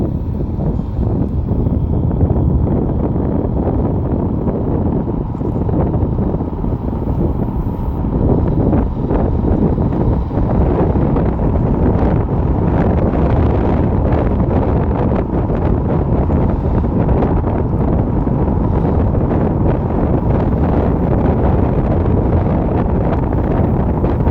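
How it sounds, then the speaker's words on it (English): Riding a Gspace GS Mars GTR electric scooter brings heavy, constant wind roar buffeting the microphone, loud and unbroken for the whole stretch, with no voices. "let's go for a little ride here"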